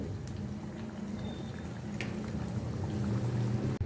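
Potato pieces frying in hot oil for an aloo fry, with a steady bubbling hiss throughout, close and fairly loud, and no talking.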